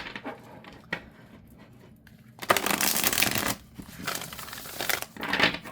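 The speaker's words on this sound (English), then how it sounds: "it might be easier for you to do side-by-side shuffle like this because they are flexible enough" Bursts of a flexible, thin-cardstock tarot deck being shuffled side by side, riffling and flicking in a few close, loud runs after a quieter opening with faint handling sounds.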